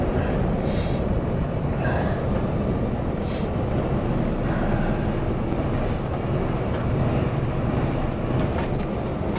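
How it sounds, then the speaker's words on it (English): A loud, steady rumble of a train rolling past close by, continuous low roar with occasional higher squeals and clanks. "choo-choo train"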